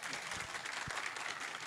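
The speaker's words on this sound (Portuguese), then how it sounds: "uma salva de palmas" Applause for a presenter's first talk at a software licensing event, a dense, steady patter of many hands clapping throughout, moderately loud with no speech over it.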